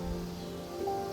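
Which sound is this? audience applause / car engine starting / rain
rain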